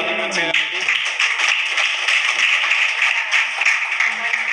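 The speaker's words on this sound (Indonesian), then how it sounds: "Kita tepuk tangan sekali lagi." Audience at a religious debate event clapping hands again, a steady, bright rattle of many claps with a voice briefly heard at the start and faint talk underneath.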